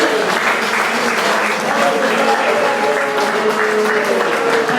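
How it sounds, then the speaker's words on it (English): Dense, loud, sustained clapping from the audience at an annual wrestling awards lunch, even and continuous for several seconds with a few voices faintly beneath. "So if we could all just give a round of applause to Sanjay Bagga"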